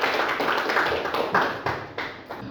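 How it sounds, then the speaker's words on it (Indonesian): A classroom of students claps together in a dense, steady patter, with a few sharper individual claps standing out. It is moderately loud, runs about two and a half seconds and fades slightly at the end, with no talking. "Oke, tepuk tangan untuk kita semua."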